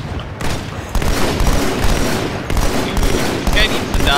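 Rapid gunfire fills a multiplayer match of Halo 2 Anniversary, with dense automatic bursts and sharp shots layered over a loud, continuous battle din.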